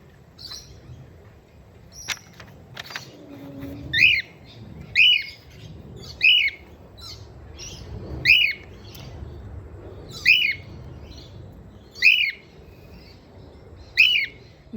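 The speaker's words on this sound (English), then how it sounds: "Mr. Crow's just arrived too, which is probably why Bo's twittering" A crow gives a steady series of harsh squawks, about eight calls spaced a second or two apart, moderately near over a quiet outdoor background with faint chirps.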